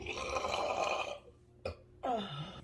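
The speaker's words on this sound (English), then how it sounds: "It's burps." A long, loud, rumbling burp, then a brief pause and a second shorter belch, close to the listener with no one talking.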